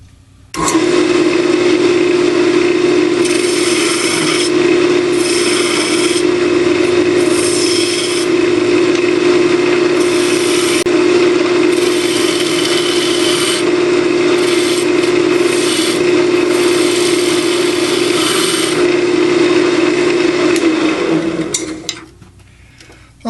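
Wood lathe spinning a Christmas ornament blank while a spindle gouge cuts it, a loud steady motor hum with scraping, rasping bursts from the tool that come and go, running continuously for about twenty seconds before winding down.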